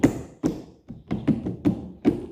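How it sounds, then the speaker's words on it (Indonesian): A hand taps on a table in a loose irregular pattern of about six dull knocks, close and fairly loud, like a child banging on the tabletop. "Kayak misal anak-anak nih mukul-mukul meja kayak."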